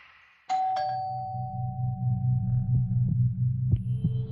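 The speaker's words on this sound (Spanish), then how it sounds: "al día siguiente el timbre sonó" A doorbell sounds once, a clear electronic two-tone chime that sustains and fades, followed by a steady low hum with a few faint knocks and a final higher tone near the end.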